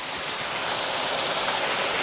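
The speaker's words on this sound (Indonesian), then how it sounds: "Hujan Mas." Heavy rain falls at a waterfall at night, a dense, even roar of water that holds steady and close throughout, with no voices.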